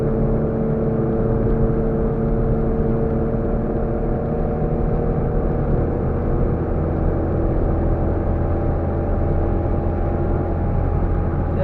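A Rover Mini 30th Anniversary cruises at about 50 mph, its engine holding a steady, loud drone with constant road and wind roar filling the cabin throughout, with no voices.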